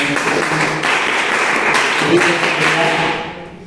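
An audience at a school Republic Day prize-distribution ceremony claps for a donor, a loud, full wash of applause held steady for about three seconds before fading away.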